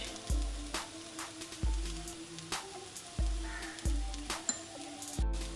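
A spoon scrapes and stirs chicken and cabbage filling in a pan over a medium flame, a steady rhythm of sharp metallic knocks about once a second over a soft background sizzle, close and without voices.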